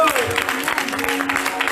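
Applause and cheering from a congregation at a church conference in France, a steady dense clapping wash filling the moment, with a sustained voice or tone running beneath it.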